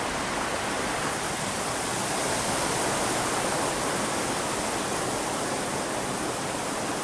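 A steady, loud roar of rushing water fills the scene, close by and unbroken, from the Grande Rivière at Bartol in Guadeloupe, a river swollen enough to make crossing tricky.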